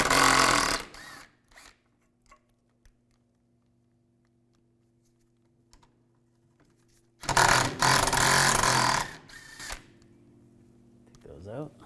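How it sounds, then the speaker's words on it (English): A power ratchet on a 10mm socket whirs in two loud bursts while removing a bracket bolt on a 1997-2001 Honda CR-V, with quiet stretches and a faint hum between. "Using a 10mm socket, we're going to take this bolt out here for the bracket and then the other bolt over there."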